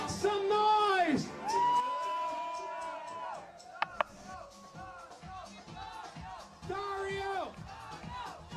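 Crowd at a flair bartending contest whooping and yelling in loud bursts, with an emcee shouting over them and a couple of sharp knocks midway.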